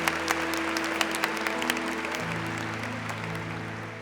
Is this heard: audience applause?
yes